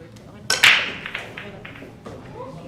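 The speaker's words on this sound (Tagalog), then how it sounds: "Nice break, gets the ball down" A billiard break shot in a pool match before a crowd: one sharp crack of the cue ball into the rack, then the balls clattering and knocking apart for a moment, with a commentator's voice close by.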